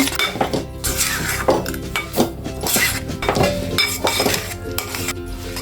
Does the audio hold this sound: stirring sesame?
yes